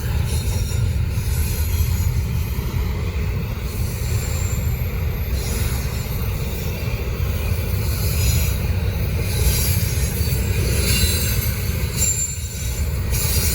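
A Norfolk Southern freight train rolls steadily past close by at night, a heavy continuous rumble of railcars topped by persistent high wheel squeal, with no talk.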